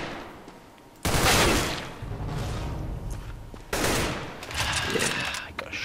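Gunfire in the video game Counter-Strike: Global Offensive, heard as loud bursts of rapid shots in two main volleys with continuous firing between them, close and dominant.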